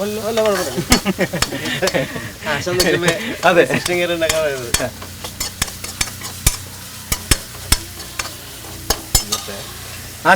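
Biryani being stirred in a frying pan, sharp spoon scrapes and clanks against the metal repeating at an irregular pace over a soft sizzle, close by, with a brief tonal vocal sound early on.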